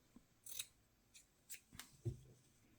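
Scissors snip fabric for a rabbit needlebook in a handful of faint, close, crisp cuts spaced irregularly, with a soft thump among them and no talking.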